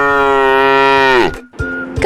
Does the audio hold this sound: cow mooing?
yes